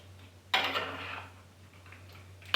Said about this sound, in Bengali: খুলে এবার আমি পুরোটা ভালো করে মিশিয়ে নেব